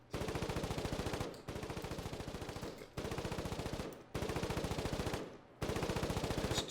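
A video game machine gun fires in five long sustained bursts, each a rapid, even rattle of close, loud shots, separated by short pauses.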